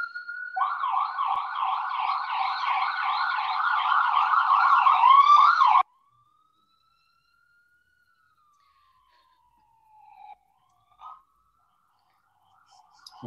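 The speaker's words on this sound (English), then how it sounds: "I apologize for the siren that's going to blare into us for a second" Emergency vehicle siren passing outside a home, a loud wailing yelp that cycles steadily for about five seconds and then cuts off abruptly, followed by near silence with a couple of faint distant sounds.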